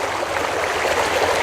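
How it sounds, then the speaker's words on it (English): A shallow stream whose current moves briskly, giving a steady, close rushing and burbling of water with no pauses. "the current's moving pretty briskly at this location"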